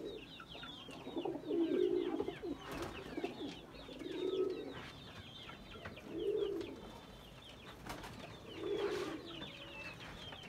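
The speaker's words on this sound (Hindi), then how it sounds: "कम से कम 50 कबूतर है जी।" Pigeons of a breeder's highflyer stock, about fifty birds kept for sale, coo in low rolling phrases that swell up about four times, close by, with faint chirps from other birds behind.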